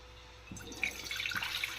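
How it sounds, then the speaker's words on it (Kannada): Water is poured into a pot to start ragi mudde, the finger-millet dough ball. A steady close pour begins about halfway through, with splashing and dripping that run to the end and no talk. "ಇದರಲ್ಲಿ ಒಂದು ಅರ್ಧ ಚಮಚಷ್ಟು ಹಾಕಿದ್ದೀನಿ ನಾನು ನೀರನ್ನ."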